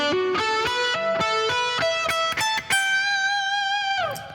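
Distorted electric guitar rock lick in quick note groups of five and six, ending on a long sustained minor-third bend that fades out; loud, close and alone with no talk.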